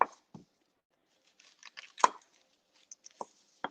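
A knife chops an onion on a cutting board for cooking, giving a few sparse, separate thuds and cuts with gaps of silence between them, close and fairly quiet.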